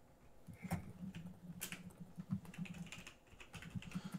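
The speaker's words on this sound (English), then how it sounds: "Typing skills are not very good." Quick bursts of typing on a computer keyboard, with soft irregular key clicks coming and going at a low level, close and otherwise quiet.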